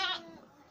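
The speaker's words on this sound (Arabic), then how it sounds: "ها هي أمامكم النعجة، ولدت اليوم قبل بضع دقائق" A ewe bleats just after giving birth to a lamb, a single short nasal cry that fades quickly, heard close but not loud.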